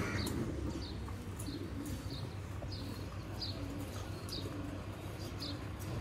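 Ferozpuri pigeons in a cage cooing softly and repeatedly at a steady rhythm, with high chirps scattered over a low, continuous background hum.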